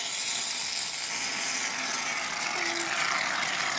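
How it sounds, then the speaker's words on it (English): Slime liquid mixture sloshing and rattling inside a shaken container, a steady busy rustle with no talk over it. "So just shake it up a little."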